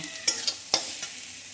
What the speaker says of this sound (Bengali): যেহেতু রসুন দিয়েছি তাই ভালো করে আর একটু ভেজে নেব